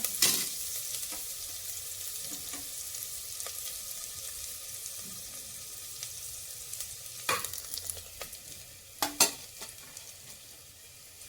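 Onions fry gently in oil in a pan for mutton masala, a soft, steady sizzle that stays quiet for a while before a few sharper stirring clatters near the end. No one speaks.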